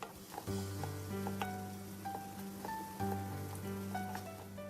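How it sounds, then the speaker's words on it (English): Ginger garlic paste with dry and green chillies sautés in a pan, giving a quiet continuous sizzle and crackle under steady melodic music. "Add 1 teaspoon ginger garlic paste and saute for a few minutes"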